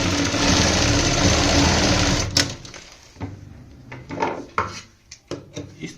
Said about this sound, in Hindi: इस तरीके से हमने यहाँ पे सिलाई लगा ली है।